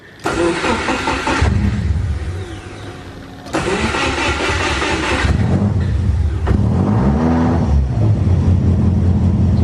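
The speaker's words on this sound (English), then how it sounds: "So that was with me holding my foot on the accelerator to get it to run" A car engine with an idle fault runs loud and close as the accelerator is held down, revving in surges with a brief dip before picking back up and holding a rough, steady roar.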